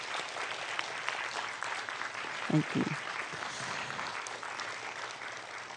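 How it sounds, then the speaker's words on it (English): Audience applause at the close of a cyber security panel event, a steady broadband patter of clapping filling the whole stretch, with a brief spoken thanks partway through. "Please give them a round of applause."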